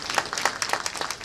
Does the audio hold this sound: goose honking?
no